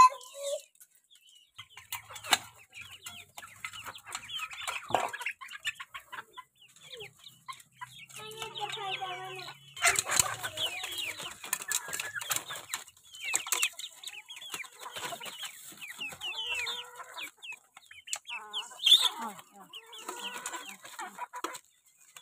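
Village chickens clucking and cackling close by for over twenty seconds, with overlapping busy calls, occasional louder squawks and a low murmur of background sound.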